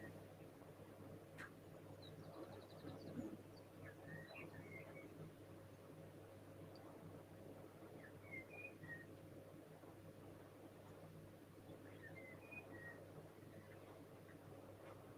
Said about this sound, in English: You can hear birdsong as the day is waking up.